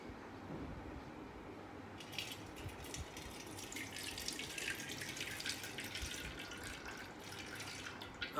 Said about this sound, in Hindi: बर्तन के अंदर इसको पानी के साथ धोएंगे, थोड़ा सा पानी इनके ऊपर चलाएंगे हम।